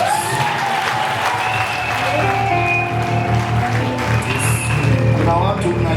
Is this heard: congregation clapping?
yes